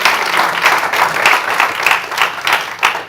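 Congregation in a church service applauding, a steady mid-level wash of clapping with rhythmic pulses and swells, no talk over it.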